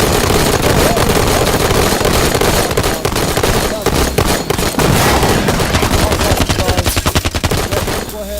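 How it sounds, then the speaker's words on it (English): Mortar firework cannon shells going off in a loud, dense barrage of rapid cracks and booms that continues without pause, with crackling bursts layered over one another from start to finish. "this motherfucker done put out a mortar cannon"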